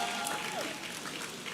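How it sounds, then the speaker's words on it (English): Audience applause at a health and vitality conference, honouring quiz winners in a hall; a short, steady burst of clapping with some faint voices mixed in. "Can we give a round of applause to our winners?"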